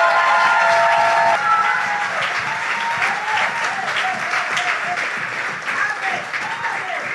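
A church congregation bursts into loud, sustained applause mixed with cheers, dense at first and then thinning slightly.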